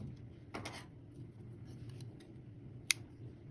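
A single crisp snip of scissors cutting yarn during amigurumi crochet work, one short sharp click heard close against a low steady room hum, with no voices.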